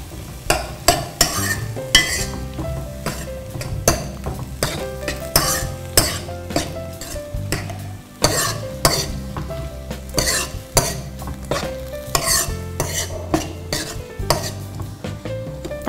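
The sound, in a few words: sautéing and stirring tomatoes in a pan for sambar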